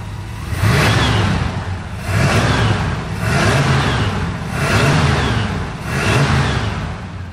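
A carbureted Shelby Cobra replica engine revs hard five times in a steady rhythm, each throttle blip rising and falling. It is loud and close, with no talking.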